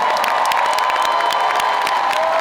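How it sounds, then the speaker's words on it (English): Audience at a Dreamcon 2023 convention stage breaks into loud, sustained applause with cheering and whoops, a dense continuous roar of clapping and shouting that fills the whole stretch. "Y'all give me a round of applause for my family real quick."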